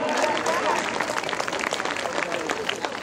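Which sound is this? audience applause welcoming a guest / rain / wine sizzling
audience applause welcoming a guest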